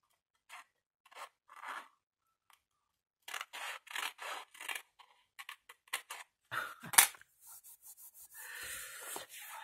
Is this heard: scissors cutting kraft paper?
yes